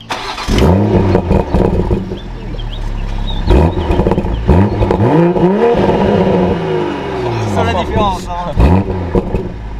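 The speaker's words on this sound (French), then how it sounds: "Et maintenant, démarrage motorsport." A 2019 BMW M340i xDrive G20 starts up in sport mode with a loud, close roar. The engine then blips through a series of rising and falling revs, and someone talks in French over the revving.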